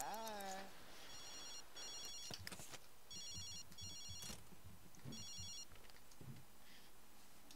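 A Sims 3 telephone rings in repeated electronic trilling bursts, clear and mid-loud, while someone talks over it between the rings.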